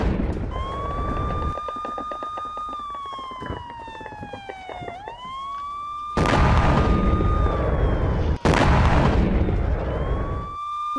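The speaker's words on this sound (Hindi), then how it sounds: "ये धमाके की आवाज" A wailing siren rises and falls, then two loud, heavy missile explosions burst in, each followed by a long rumbling roar, in Ukraine.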